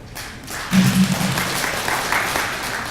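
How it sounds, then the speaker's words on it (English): Shareholders at a cement company's annual general meeting break into applause, a dense and steady clapping from a large crowd that swells quickly and keeps going to the end. "May I request my fellow shareholders to appreciate what our board is doing? Can we just give them a clap,"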